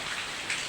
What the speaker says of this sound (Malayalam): ഇതാണ് നമ്മുടെ മഴ